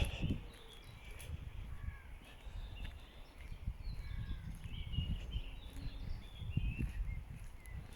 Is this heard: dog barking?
no